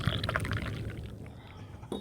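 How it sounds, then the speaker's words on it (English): Black coffee pours from a coffee pot into a cup set on stacked coasters, a soft trickling splash up close that fades out, with a brief voice near the end. "Pouring coffee."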